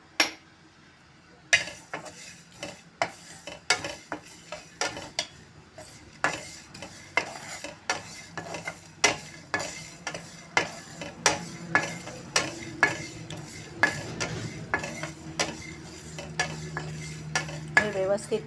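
Seeds and sesame dry-roasting in a pan, stirred with a utensil that scrapes and clinks against the metal in a steady rhythm of sharp ticks over a faint sizzle, close and with no talking.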